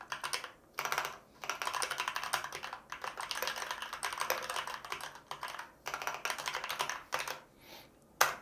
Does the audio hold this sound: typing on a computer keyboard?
yes